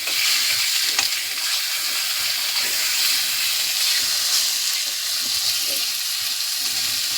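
Fish oil poured into a hot pan for a Bengali curry, a loud, steady, hissing sizzle with dense crackle that holds evenly throughout at close range.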